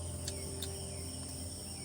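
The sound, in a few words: crickets chirping in the evening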